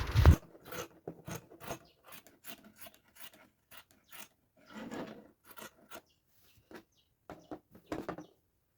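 Scissors cutting through fabric for a girl's sewing project, with soft, quiet snips and rustles scattered irregularly across the stretch, one louder thump at the start.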